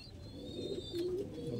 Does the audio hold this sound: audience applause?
no